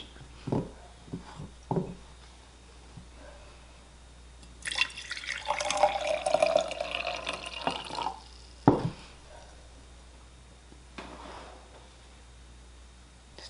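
Diluted Wilton's Ivory icing colour pours into a container for a few seconds, a gurgling splash, with brief knocks and clinks before and after.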